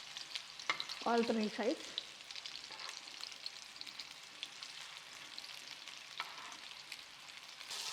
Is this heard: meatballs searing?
yes